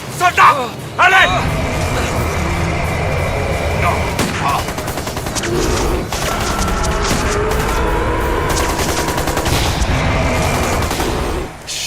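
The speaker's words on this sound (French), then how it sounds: "Des tirs de petit calibre." Small-caliber gunfire in an action film, rapid bursts and sharp single shots mixed with shouting voices, loud and close with chaotic overlapping activity throughout.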